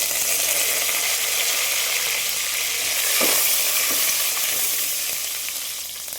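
Garlic and curry leaves sizzle in hot oil for a village-style fish kulambu, a loud, dense frying hiss that holds steady throughout and eases slightly toward the end, with no voices.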